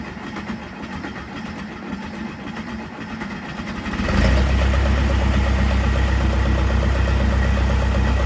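Case backhoe engine, first a quieter rattling idle, then after a few seconds the engine steps up into a louder, steady, deep running drone that stays close and continuous.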